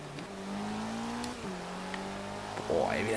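Dodge Dart GT with an offroad build in Forza Horizon 3, engine note climbing steadily through gear shifts at low level with faint tire and road noise.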